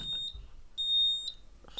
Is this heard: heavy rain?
no